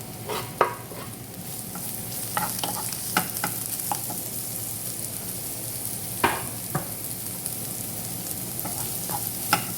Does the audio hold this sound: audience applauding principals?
no